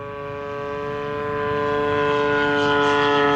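A Seagull Models Gilmore Red Lion RC plane with a 35cc gas engine and 74-inch wingspan makes a fast pass at full throttle, its buzzing propeller drone steady and strongly tonal, growing louder as it approaches.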